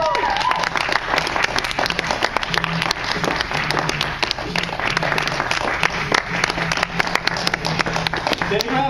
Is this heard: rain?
no